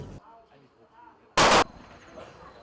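Rifle shot from students' shooting training at a range, one sharp, loud crack standing out from a quiet background with faint low sounds before and after.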